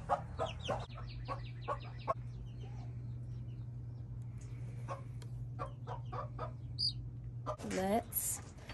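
Cochin chickens cluck in short, scattered bursts from close by, with a steady low hum underneath and people talking at times; a louder squawking call breaks out near the end.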